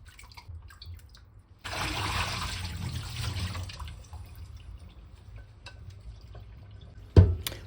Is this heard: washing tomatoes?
yes